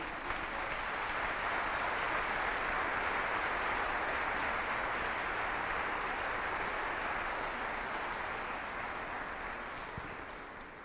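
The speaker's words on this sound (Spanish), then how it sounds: "Dele un buen aplauso a Jesús." A church congregation claps steadily and loudly for about ten seconds, a dense, even wash of applause that fades slightly at the end.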